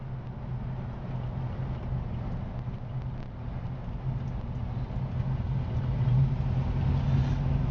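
A 1956 Chevrolet pickup truck cruising along the road, heard as a steady, low engine drone with road rumble from inside the cab that holds even and builds slightly louder near the end, with no talking.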